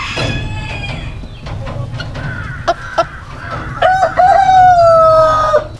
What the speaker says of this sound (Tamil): இது சிலுக்கி நிற்குது சிலுக்கின கோழி